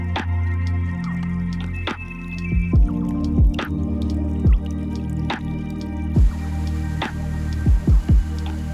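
Water drips and splashes in a pool beside a small waterfall at a jungle waterfall in Ubud, Bali, with several distinct close drops over a steady watery background.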